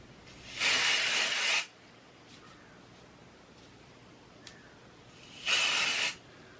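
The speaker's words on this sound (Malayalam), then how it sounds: "അങ്ങനെ നമുക്ക് ഓരോ ഭാഗമായിട്ട് ഇങ്ങനെ സ്പ്രേ ചെയ്ത് കൊടുക്കാം കേട്ടോ." Two bursts of an aerosol dry shampoo sprayed onto hair, each a loud hiss lasting about a second, separated by a quiet pause with faint rustling.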